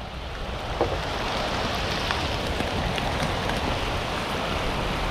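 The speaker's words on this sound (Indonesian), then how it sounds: "Hujan guys." Rain falls steadily around a fishing raft, making a dense, even hiss with a few sharper drop hits. It continues unbroken and fairly loud.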